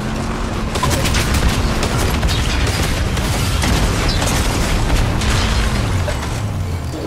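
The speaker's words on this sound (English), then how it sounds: "Vehicle is down. Boom." A vehicle explodes in the video game Fortnite, with a loud burst of booming blasts and crackling gunfire-like pops that hold steady for several seconds, with no talking over it.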